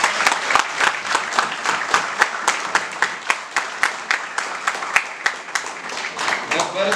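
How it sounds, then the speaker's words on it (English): Thunderous applause from a large audience at a talk on careers in the Indian judiciary and defence services, a dense wash of many hands clapping at close range, sustained and steady throughout. "Give him a thunderous applause."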